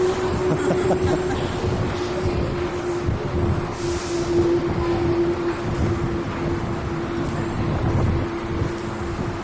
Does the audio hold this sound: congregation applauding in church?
no